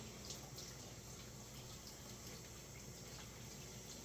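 A whole raw chicken is rinsed under a running kitchen tap, giving a faint, steady stream of water with no break and no voices.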